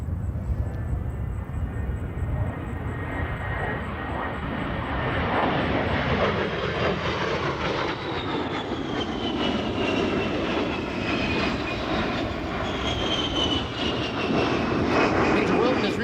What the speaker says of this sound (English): Major Wilton displaying the Warthog's rolling maneuverability